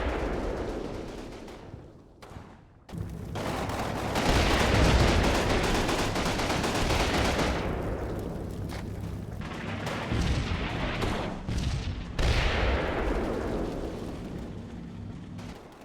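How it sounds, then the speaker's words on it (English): Artillery fire in the WWII game Combat Mission Final Blitzkrieg, with heavy explosive booms and rumbling blasts rolling over several seconds, loud and reverberant, then easing before more impacts arrive. "Artillery keeps coming in pretty slow."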